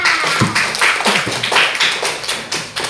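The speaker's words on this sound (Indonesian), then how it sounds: "Iya, tepuk tangan." Schoolchildren clap in a primary classroom science lesson, a rhythmic, fairly close burst of separate claps in a steady pulse lasting about three seconds.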